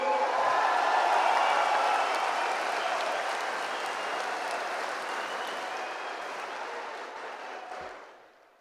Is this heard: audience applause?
yes